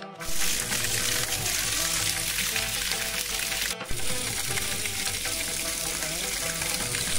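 Water from a temple spring flows continuously in a steady, close rushing hiss, with a faint voice in the background.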